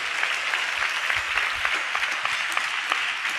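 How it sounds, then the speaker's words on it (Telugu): A church congregation applauding together, loud continuous clapping with crisp overlapping claps filling the whole stretch. "గట్టిగా చప్పట్లు కొడుతూ స్తోత్రాలు చెప్దాం"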